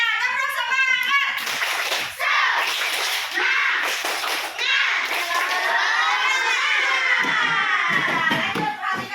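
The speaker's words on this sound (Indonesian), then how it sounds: "Yuk semuanya tepuk semangat." Schoolchildren in a second-grade classroom clap and cheer together in a rhythmic class spirit chant, loud and close, with bursts of shouting voices over steady clapping.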